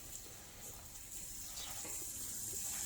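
Water running steadily onto tomato plants in 10-inch pots with halos, a continuous close gush like a tap or hose giving the soil a good soaking, alone without talk.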